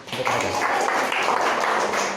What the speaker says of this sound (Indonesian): Beri tepuk tangannya untuk mereka.